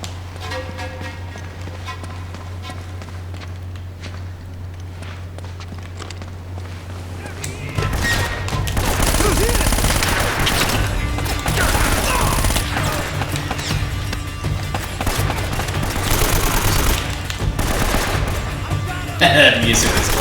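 Rapid gunfire from a small gun in Uncharted: Drake's Fortune, quiet at first then erupting into loud sustained bursts of shots over game music, with someone talking over parts.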